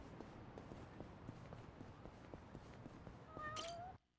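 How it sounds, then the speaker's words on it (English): A cat meowing in Yakuza: Like a Dragon, a faint rising meow near the end over quiet, regular footsteps, with the game sound cutting out abruptly afterward. "you heard the kitten. The cat is in need."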